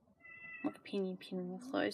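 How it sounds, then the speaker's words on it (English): A cat meows a few times indoors, close by, while a person keeps talking over it. "Please excuse the cat."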